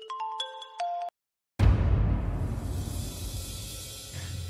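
A mobile phone rings with an incoming call: a short electronic ringtone melody plays for about a second, cuts off abruptly, and after a brief silence gives way to loud, steady broadband noise.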